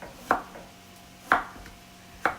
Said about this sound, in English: I am going to cut them a little bit thinner strips